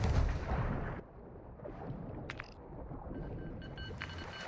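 Distant gunfire rumbles on the left in a Call of Duty Modern Warfare II DMZ match, a heavy booming burst at the start trailing into low background rumble with faint scattered reports and brief high clicks.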